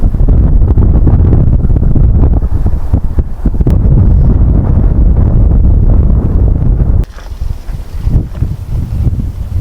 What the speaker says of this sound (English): the wind is cold. The wind is going at like about